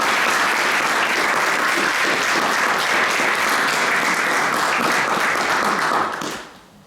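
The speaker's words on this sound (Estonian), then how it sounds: "väärivad kindlasti suurt aplausi" Audience at a sports awards ceremony breaks into sustained applause, a dense wash of many hands clapping that holds steady for about six seconds before quickly fading out.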